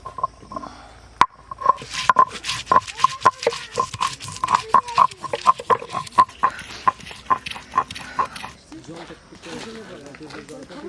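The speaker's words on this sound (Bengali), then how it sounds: "আদা হেমন দাস্তায় কুটে নিছি, এখন শিলি ভালো করে বাইটে নেব" Ginger is ground by hand on a stone grinding slab in a village kitchen: quick, rhythmic scraping and knocking strokes repeat close by for several seconds, then ease off as a voice talks at the end.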